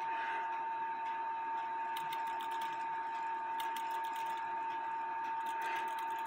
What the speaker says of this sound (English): trip it, you'll see the hammer doing its thing